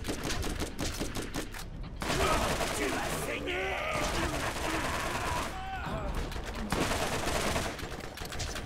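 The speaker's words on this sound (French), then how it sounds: "L'avantage c'est avec le nombre de balles que je tire avec ce truc." Rapid gunfire from a weapon in the Borderlands video game, dense bursts of shots in quick repeated volleys mixed with game effects and someone speaking over the action.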